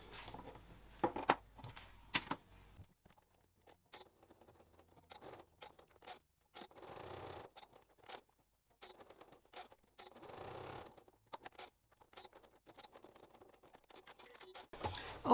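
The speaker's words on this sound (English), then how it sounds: "Obviously I'm speed sewing here today, so I haven't changed my thread." A sewing machine runs in short, rapid bursts of stitching as it sews a label onto webbing, with brief pauses between runs and no talking.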